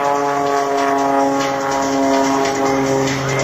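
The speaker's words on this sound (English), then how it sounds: "Rolling that beautiful Cirrus Extra 300 up into the blue sky here in New Jersey." An Extra 300 aerobatic propeller airplane rolls through the sky at an airshow at McGuire AFB in New Jersey, its engine a loud, steady, droning roar with strong harmonic tones that holds throughout, with no talk.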